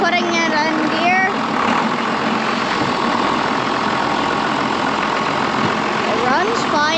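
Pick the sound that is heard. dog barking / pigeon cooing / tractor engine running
tractor engine running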